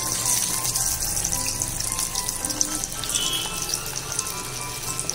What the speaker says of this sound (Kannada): ಇವಾಗ ಲಾಲಿಪಾಪ್ನ ಬಿಟ್ಕೊಳ್ತೀನಿ ಎಣ್ಣೆ ಒಳಗೆ.